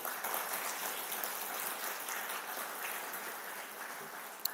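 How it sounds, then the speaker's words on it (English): A crowd at an agricultural finance learning event claps in steady, sustained applause that fills the whole stretch, dense and even, with no voices over it. "Another round of applause for him."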